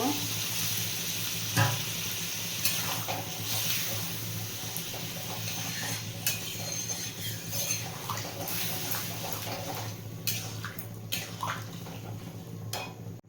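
Kabuli chickpea ghugni frying with mutton fat in a pan while being stirred, a soft continuous sizzle with occasional scrapes and clinks of the utensil, close but fairly quiet.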